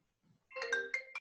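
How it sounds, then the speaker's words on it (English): A smartphone ringtone chimes for an incoming call, heard close and clear as a short melodic burst of tones that starts after a brief quiet moment. "It is ringing now"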